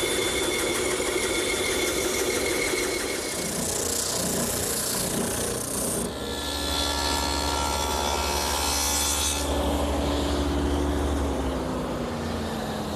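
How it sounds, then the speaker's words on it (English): A bandsaw cuts a traced curved outline in a wooden chair part for a garden armchair, giving a steady machine drone and ragged cutting noise with shifting pitch across the clip, loud and close, with no talking. "And I'll cut it at the bandsaw."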